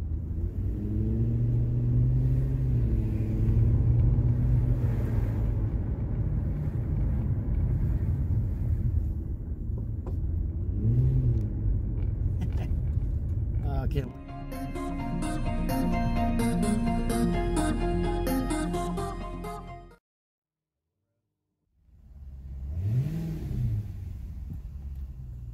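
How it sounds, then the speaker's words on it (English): A 2003 Infiniti M45 engine, run after sitting for about three months, rumbles steadily through its stock exhaust, close by and loud, cutting out briefly near the end before it returns. "Damn, stock exhaust sounds great."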